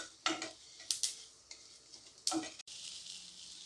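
Sesame seeds frying in a pan sizzle faintly, with a few scattered spatula scrapes and light clinks, then a sharp tap near the end; quiet and close, with no one speaking.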